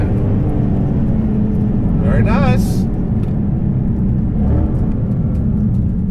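A widened, supercharged, air-bagged 2015 Ford Mustang GT cruises along, its engine and road noise a steady low rumble throughout, with brief talk from people inside the car.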